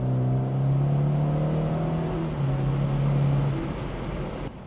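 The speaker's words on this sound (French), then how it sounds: "on entend encore un peu à la sonorité de notre véhicule." BMW 230i coupé engine drones steadily while driving, a low, even hum with a slight shift in pitch partway through, close and continuous with no talk.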